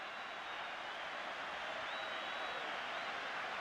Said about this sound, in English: listen to the roars from the crowd